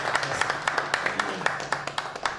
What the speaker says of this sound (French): S'il y a possibilité que nous applaudissons, ce n'est pas interdit.